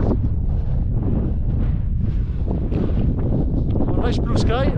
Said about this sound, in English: It's a bit of a cold wind.